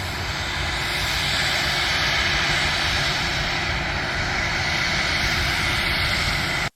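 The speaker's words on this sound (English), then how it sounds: "Check out this plane right over here." Airplane engine at a flight school runs as a loud, steady drone close by for about seven seconds, unbroken and alone before cutting off sharply at the end.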